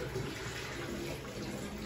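Water runs steadily and softly into a flower vase being filled for an arrangement, a faint continuous pour with no talking.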